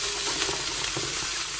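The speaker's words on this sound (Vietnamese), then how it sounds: "Mình xào sơ qua rang thêm." Rice and broccoli stir-fried in a pan give a steady, close, dense sizzle with faint scraping, with no voices.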